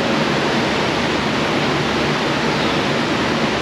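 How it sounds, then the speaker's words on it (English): Motor oil poured slowly into a 2-inch fill hole in an engine valve cover during auto repair, a steady, loud, unbroken rushing pour that holds without pause throughout. "Gotta fill the oil slow."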